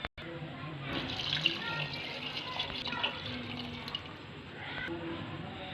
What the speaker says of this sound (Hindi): अब इसमें पानी ऐड कर देंगे